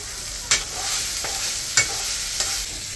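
Potatoes being stirred into a spice paste frying in oil: a constant hiss of sizzling broken by three or four sharp, close spatula scrapes against the pan.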